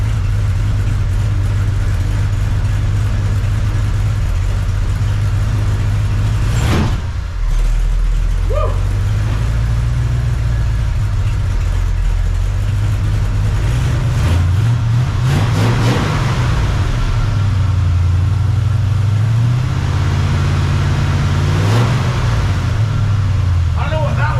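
A swapped-in 350 V8 with a mild cam idles steadily with a low, lumpy rumble that runs loud and close throughout, and a few sharper swells rise over it.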